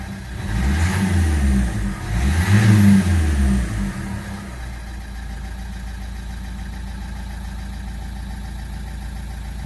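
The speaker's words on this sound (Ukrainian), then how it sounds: "Двигун працює рівно, в принципі, так як і повинен працювати." A Renault Megane 1.5 diesel engine revs up twice with rising and falling roars, then settles into a steady, even idle rumble.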